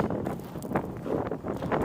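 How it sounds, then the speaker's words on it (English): Steady strong desert wind near Primm, Nevada, roars and buffets against the microphone in low rumbling gusts, filling the clip with continuous rough noise. "It's getting super windy out."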